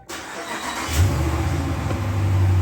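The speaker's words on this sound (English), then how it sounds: "now what we'll do is we'll put our foot on the brake pedal, start it up" A car engine cranks and starts after an oil change, catching quickly and settling into a steady, loud idle that rises slightly, heard up close without speech.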